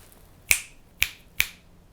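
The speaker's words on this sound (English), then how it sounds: "I'm going to snap my fingers on both sides of my head" Three crisp finger snaps on both sides of the head close to the ears, sharp and distinct, spaced about half a second apart against near silence.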